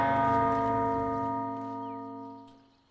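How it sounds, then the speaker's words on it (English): A bell rings once in Baldur's Gate 3 and leaves a long, sustained metallic tone that fades slowly, with no voices. "I guess do we ring the bell?"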